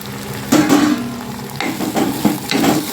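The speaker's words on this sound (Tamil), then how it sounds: "இந்த காயை போட்டு இதோட வதக்கி விட்ருங்க" Eggplant, drumstick and ground tomato sauté in a pan for a fish kulambu, sizzling loudly and close. Several bursts of spatula scraping and stirring break up the hiss, with no talking.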